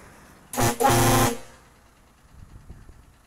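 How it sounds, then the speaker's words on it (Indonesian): A Hino 500 Euro 4 truck horn honks twice, a short loud blast followed by a longer one, nearby and clear against quiet surroundings. "Mantap klaksonnya."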